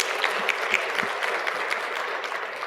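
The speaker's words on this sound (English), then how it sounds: "I think we need to give ourselves a round of applause" Audience applause fills a conference hall at a closing keynote, a dense, steady wash of many hands clapping at once that holds evenly throughout with no voices over it.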